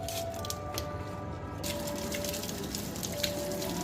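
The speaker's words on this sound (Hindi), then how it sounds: "वैसे पानी देखो कितना तेज आ रहा है।" Water rushing fast out of a household drain pipe, a steady splashing, hissing gush with dripping and spattering, fairly close and continuous throughout, with faint tonal hums in the background.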